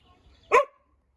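A dog gives one sharp, fairly close bark over quiet surroundings.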